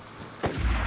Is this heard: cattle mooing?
no